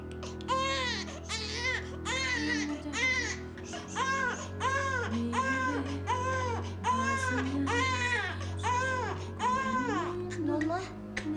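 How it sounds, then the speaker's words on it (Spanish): An infant wails in long, repeated rising-and-falling cries, loud and close, continuing steadily with brief breaths between bursts. "¿Qué le hiciste? ¿Por qué está llorando así?"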